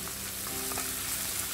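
Ginger garlic paste sputters in hot oil for a Kerala-style mutton roast, a brief, soft, steady sizzle with a few faint pops.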